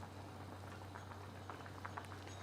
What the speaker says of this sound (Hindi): तो यहाँ यखनी को पकते 10 मिनट हो चुके हैं।